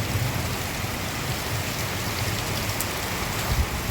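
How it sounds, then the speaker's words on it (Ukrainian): Steady, heavy thunderstorm rain pours down continuously in a village, a dense hiss of drops with no voices. "Дощ вже стихає, значить десь переносить."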